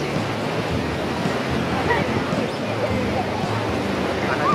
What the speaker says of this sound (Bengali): ওই যে একটা বড় ঢেউ আসছে।